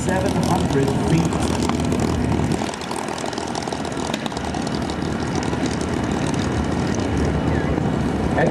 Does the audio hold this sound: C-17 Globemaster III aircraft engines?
yes